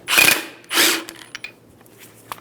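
Power tool snugging down the top nut on a front strut mount of a 2010-2014 Subaru Outback: two loud, close buzzing bursts under a second each, then faint ratchety clicks and handling noise.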